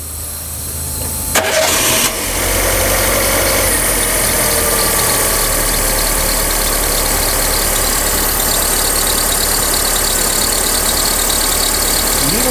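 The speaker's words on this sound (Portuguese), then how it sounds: "Eu quero ouvir o barulho desse motor." A Fiat T-Jet engine starts with a brief crank in a workshop, then settles into a steady, loud idle heard up close with a constant mechanical drone and no talking.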